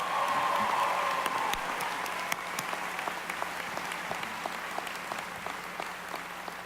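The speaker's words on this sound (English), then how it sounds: "How about another round of applause for that great performance, huh?" An audience at a college commencement ceremony applauds with sustained dense clapping that holds steady, then thins slightly toward the end, with no speech over it.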